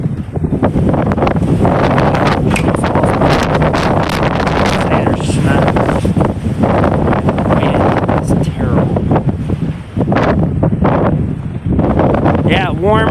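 Strong blizzard wind in Omaha, Nebraska roars and buffets the microphone outdoors, loud and continuous with gusting surges, and a voice is heard talking faintly beneath it.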